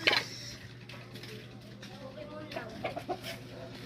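A lame gamecock clucks in short bursts, a sharp one at the start and a few softer ones later, over a low background hum and faint murmuring.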